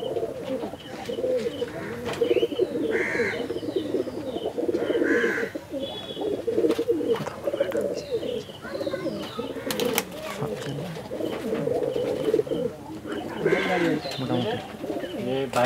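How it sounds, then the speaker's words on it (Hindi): Pigeons of a small Madrasi breed in a loft in Chennai coo continuously in soft, throaty rolling calls, several birds overlapping close by with occasional chirps mixed in. "छोटा साइज का कबूतर है, बहुत छोटा है।"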